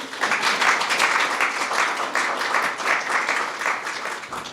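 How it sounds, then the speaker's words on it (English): Moderate applause rises from the audience at a swearing-in ceremony for the head of Medicare and Medicaid, steady overlapping clapping heard from a slight distance, fairly even before tapering off at the end. "You can applaud that if you want."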